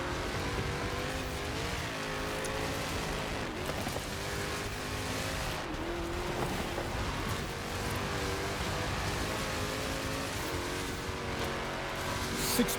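Race car engine in the Forza Horizon 4 game, roaring steadily and loudly throughout with shifting revs and occasional tire squeal, no voices over it.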